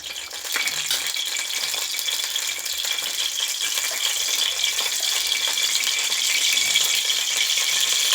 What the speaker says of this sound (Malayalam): ഇനി ഇതിലേക്ക് നമ്മൾ കടുക് ഇടുന്നു